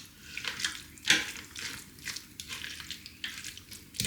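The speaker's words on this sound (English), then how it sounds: "And then all you need to do is give it a good stir." Mayonnaise being stirred into pulled slow cooker chicken in a bowl: close, wet, squelchy scraping strokes repeating in an uneven rhythm, with a sharper clack of the utensil near the start.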